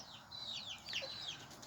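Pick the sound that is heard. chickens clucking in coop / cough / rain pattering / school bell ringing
chickens clucking in coop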